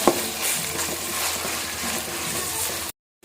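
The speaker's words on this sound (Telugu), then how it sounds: "అల్లం వెల్లుల్లి పేస్ట్ యాడ్ చేసుకొని బాగా వేయించుకోండి" Ginger garlic paste frying with onions in a pan for chicken biryani, a loud continuous sizzle with stirring, close up, cutting off abruptly near the end.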